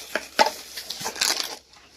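A few newly bought plates clatter and clink as they are handled in a kitchen, in short bright knocks over about two seconds.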